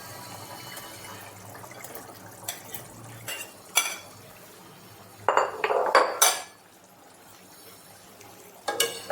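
Chicken pieces for chilli chicken dropped into a pan of simmering sauce, with a few sharp clinks of metal on the pan and soft sizzling and stirring, close up and with no talking.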